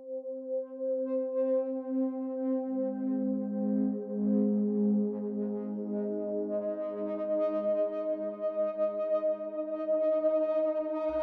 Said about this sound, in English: So I'm using the Vital virtual instrument synth over here to give me that pad sound.